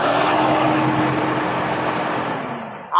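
A used car's engine revs hard at a car sales shop, loud and close, with its droning pitch sinking slowly as the revs ease off over three seconds before a sharp cut at the end.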